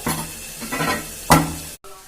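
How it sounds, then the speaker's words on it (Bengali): Thin-cut potatoes frying in oil at home, a close sizzle with a few stirring scrapes and one louder clatter before a brief cutoff. "ওদিকে আলুটা ভাজা হচ্ছে"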